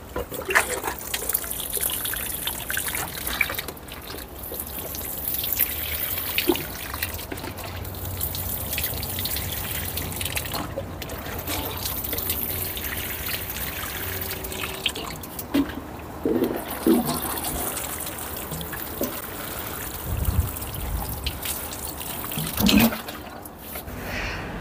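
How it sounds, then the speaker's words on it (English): Water trickling and splashing from a watering can or hose onto soil in pots of newly planted summer bulbs like begonias, dahlias and hedychium, steady flow outdoors with wind noise and occasional bumps. "I just wanna water them initially"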